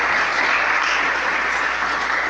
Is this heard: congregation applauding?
yes